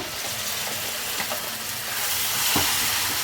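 Ground paste drops into a hot tempering of mustard, cumin, chana dal, curry leaves and dried red chillies, giving a loud, steady, close sizzle and hiss of frying with a brief stir, no voices.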